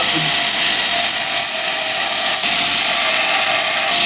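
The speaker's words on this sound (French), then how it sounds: "je dois donner un petit coup de meule. Juste pour enlever la peinture" An angle grinder runs continuously against a metal plate to strip paint from one spot, a loud, steady, high-pitched whine close by with no break for the whole stretch.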